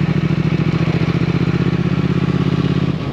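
A Triumph Thruxton 1200R parallel-twin motorcycle rumbles loudly and steadily while being ridden, with a low, pulsing engine beat and a slight drop in level at the end.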